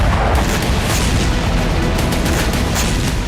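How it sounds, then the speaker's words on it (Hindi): Missile strike in the Kurakhove area of Donetsk, a loud, sustained rumbling roar of explosions and booming blasts that fills the whole stretch without pause. "डोनेत्स्क के कुराखोवो इलाके में यूक्रेन ने मिसाइल से ताबड़तोड़ प्रहार किया।"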